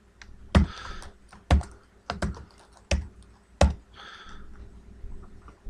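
Security-check letters typed on a computer keyboard, a handful of sharp, close key clacks spaced irregularly with softer clicks between them, and no talking.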